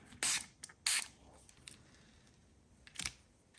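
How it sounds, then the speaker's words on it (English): Gold spray paint hisses from an aerosol can in two short, loud bursts, then a third brief spray after a pause, close up amid faint clicking handling sounds. "Maybe it needs a little bit of gold spray. I'll mist it a little bit."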